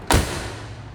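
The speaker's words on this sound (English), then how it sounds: "listen to the way that door closes." A square body crew cab truck door on a lifted 3+3 build slams shut once with a solid, close low thud, then the low rumble of the surroundings carries on.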